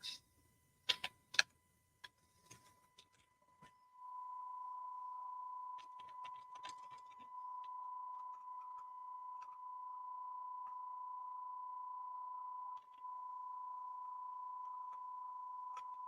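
A small, cheap stopwatch beeper sounds a steady, continuous tone after a few faint clicks, holding evenly in an otherwise quiet room.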